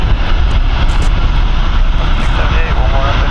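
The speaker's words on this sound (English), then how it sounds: "737 that was supposed to depart at 1:25 is starting up its engine." A Boeing 737 jet engine starting up at San Francisco International Airport, a loud continuous roar and whine heard from a distance with no break over the few seconds.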